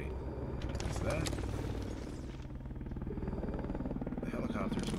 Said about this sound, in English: The helicopter's military